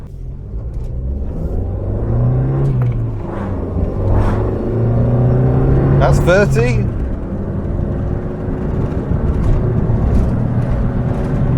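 A 1992 Nissan Micra GSX with a 1.2 litre K10 engine accelerating on a road, steady in-cabin engine drone and road rumble rising through the gears, with someone talking over it.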